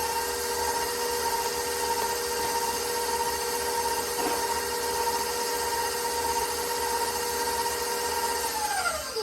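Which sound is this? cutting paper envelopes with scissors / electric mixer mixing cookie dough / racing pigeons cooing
electric mixer mixing cookie dough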